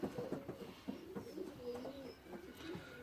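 Pigeons coo softly nearby, including a young brown spread bird, low repeated throaty calls overlapping at an easy rhythm against quiet background sound.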